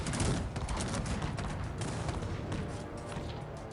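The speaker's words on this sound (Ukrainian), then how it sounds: "Гармати ще й валять." Dense, continuous barrage of booming cannon fire and gunshots in the video game Cossacks 3, overlapping heavily into a loud, chaotic roar of battle.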